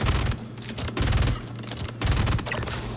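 Heavy explosive blasts from a grenade in the Star Citizen shooter, three booming bursts in a row with rumbling low-end and crackling debris, close and loud.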